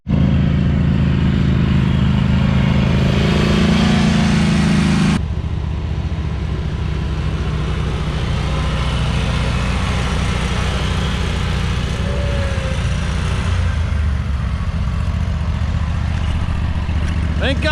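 A lawn mower runs at close range and loud, droning steadily throughout with a clattering, rumbling engine note; after a few seconds the tone drops and roughens, and faint voices can be heard underneath.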